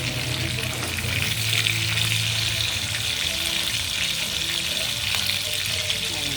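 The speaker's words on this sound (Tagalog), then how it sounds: "prito pa ako dito" Tilapia sizzles loudly and steadily in hot oil, a dense, unbroken crackling hiss lasting throughout.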